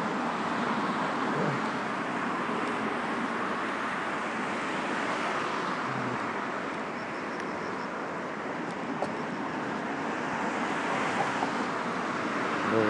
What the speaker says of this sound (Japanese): 車がザーって通るところは雑音が入るし